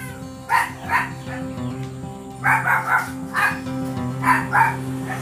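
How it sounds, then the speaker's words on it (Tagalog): A dog barks repeatedly in short bursts, several barks spaced irregularly, fairly close and loud over a steady low background hum. "Maingay yung aso."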